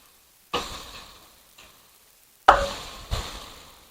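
Raw turmeric vegetable cooks Rajasthani style in a pan, with a spatula knocking and scraping in three or four distinct, close strokes. Soft sizzling fades between them.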